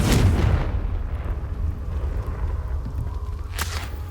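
A Confringo explosion spell from Hogwarts Legacy bursts with a loud opening boom, then a sustained low rumble and a second sharp crack near the end, with no talking.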